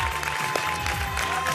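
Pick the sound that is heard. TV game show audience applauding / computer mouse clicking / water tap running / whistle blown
TV game show audience applauding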